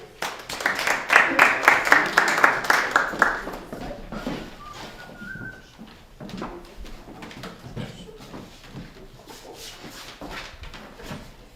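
An audience at the Le Solstice Festival 2024 programme launch applauds warmly for a singer: loud, dense clapping for about four seconds, then fading into scattered claps as a voice begins talking over the room.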